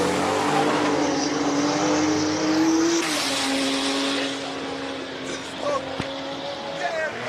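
Race car accelerating up a hill climb at the Speed Classic Cape Town King of the Mountain event, a loud sustained engine note rising in pitch, then shifting, with a commentator talking over it.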